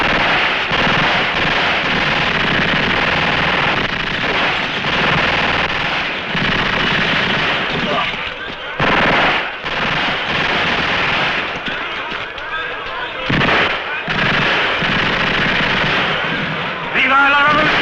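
Loud, sustained volley of gunfire from a firing squad in a spaghetti western, dense rapid bursts filling the scene with a few short breaks between salvos.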